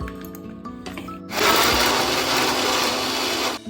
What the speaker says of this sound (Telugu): అవి దీంట్లోకి వేసుకొని మిక్సీ పట్టుకోవాలి.